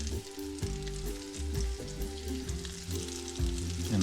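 Chicken wings sizzle and crackle in hot oil at about 372 degrees for buttermilk fried chicken, a loud, steady, dense frying hiss up close with layered bubbling, uninterrupted and without voices.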